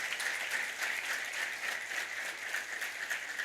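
An audience at a sales seminar applauds, a fairly soft, steady wash of clapping with gentle swells, no speech over it.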